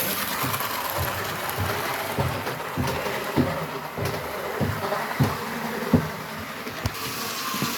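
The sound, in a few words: model train running on track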